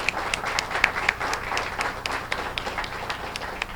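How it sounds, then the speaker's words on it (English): A school audience claps for a student-of-the-month honoree, with steady applause and a few sharp individual claps at a moderate distance and no voices over it. "So now let's give them a great round of applause"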